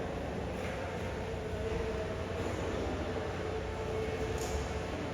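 Inside the Amtrak train station in San Jose, a steady rumble of a train or rail cars carries on throughout at moderate level, with no voices.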